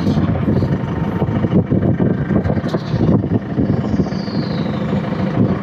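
Octane FD50 11,000 lb diesel forklift engine idling, a steady, loud, close rumble with a little wind buffeting on the microphone and no talking.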